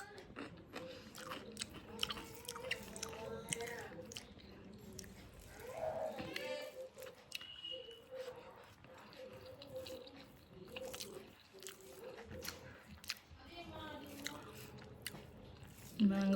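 Mango pickle being chewed and eaten, with soft, close biting and chewing sounds under low talk and faint background noise.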